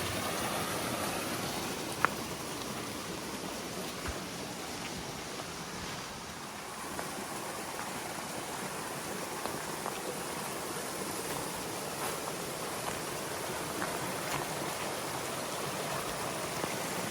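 Steady broadband rush of Bartram Falls, a waterfall on a hiking trail in fine weather, filling the scene continuously and fairly close, with no voices.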